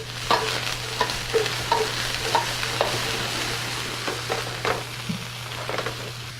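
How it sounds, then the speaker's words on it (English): Green onion and white wine sizzle steadily in a hot pan on a Kenwood setup, with repeated light stirring scrapes over the constant frying hiss. "add a little bit of white wine to it, just so it doesn't dry out on us"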